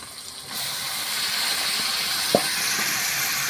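Marinated chicken drops into hot spiced oil over a wood fire, and a loud, steady sizzle begins abruptly and hisses on close by, with a couple of faint knocks.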